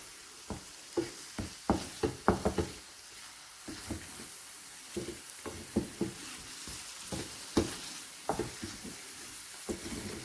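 Prawn karahi masala frying on a low flame, a quiet sizzle punctuated by frequent sharp pops and spatters in irregular bursts.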